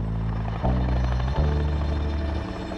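Army helicopter flying, a loud steady rotor and engine drone filling the whole stretch, close and continuous with no voices.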